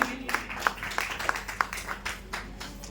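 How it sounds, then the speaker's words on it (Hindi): Audience at a health foundation program in Lucknow clapping, with sharp, evenly spaced claps in a steady rhythm over a light room murmur, moderately loud and fairly close. "एक बार जोरदार ताली दीजिए आप सभी लोगों के लिए।"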